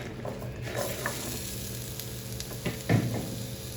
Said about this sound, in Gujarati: હવે આપણે એની અંદર ચણા બાફીને તૈયાર કર્યા હતા એ આની અંદર ઉમેરી દઈશું.